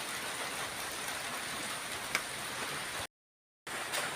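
Rain falls steadily in Murcia, Negros Occidental, Philippines, with a storm approaching, a soft, even hiss of drops with one small tap, briefly cutting to silence before resuming.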